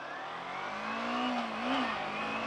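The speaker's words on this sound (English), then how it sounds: "see, I just shifted to 2nd, 3rd, 4th." A motorcycle engine hums steadily and climbs in pitch as it rises through the gears, a smooth, moderately loud drone with a brief upward swell near the end.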